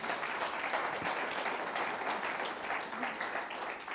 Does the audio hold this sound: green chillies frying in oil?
no